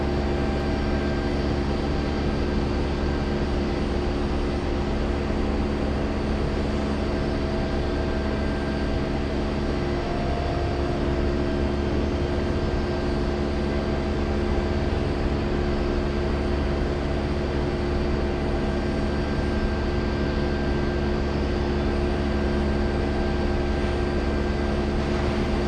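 A steady, loud aircraft drone with a low rotor-like hum persists unbroken for the whole stretch near JFK airport, consistent with a Chinook helicopter passing at a distance, with no voices.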